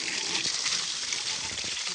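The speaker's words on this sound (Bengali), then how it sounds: "সব কাদা সুন্দর করে পানি মেরে মেরে মেরে মেরে পরিষ্কার করে নেবেন" Water is sprayed to wash mud off the wheels of a Bajaj Pulsar 150cc motorcycle, a steady close hissing spray with slight splashing variations and no talk.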